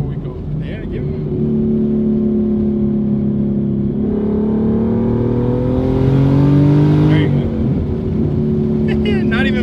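A twin-turbo 3.7L V6 Ford Mustang S550 revs hard on a dyno, its loud engine note climbing in pitch, holding and then dropping off. Excited voices can be heard near the start and end.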